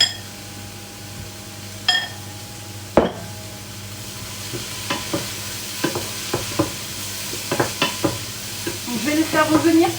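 Finely cut cauliflower rice sizzles in a frying pan while a utensil scrapes and taps against it in irregular strokes, with a sharp clatter early on and faster stirring toward the end.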